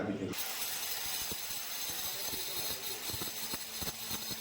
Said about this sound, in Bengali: মেশিন দিয়ে মার্বেল টাইলসগুলো কাটার সময় জল অবশ্যই দিতে হবে